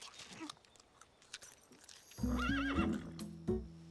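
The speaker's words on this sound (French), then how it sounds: "Le premier travail d'un cow-boy, c'est de prendre bien soin de son cheval." After quiet background rustling, a horse lets out a loud, close whinny with a wavering pitch, followed by a short snort.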